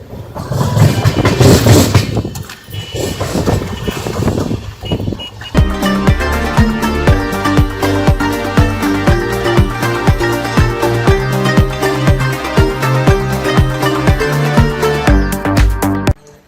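An express passenger train rolls along steadily past Saidapur station in North Karnataka with a dense, continuous rumble and rattling, loud and close, with no voices.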